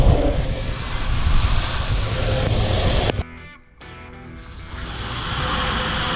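Water from a garden hose sprays onto an air intake filter, producing a loud, steady hiss and splash that breaks off briefly before resuming more softly.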